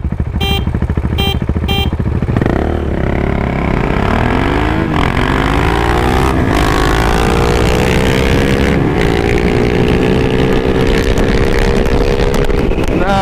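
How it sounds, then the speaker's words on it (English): A 2017 KTM Duke 390 and a 2015 KTM Duke 690, both single-cylinder and geared down, drag race. Loud engines rise in pitch through repeated gear changes under heavy wind buffeting, after a few short tones at the start. "now that the bike is fully broken in, we can do a little drag race on this bike versus my bike"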